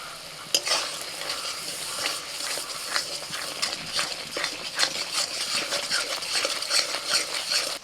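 Ground spices (cumin, coriander, Kashmiri chilli, turmeric) frying in a pan for potol chingri, a steady close sizzle broken by repeated scraping clinks of a spatula stirring against the metal, with no voices.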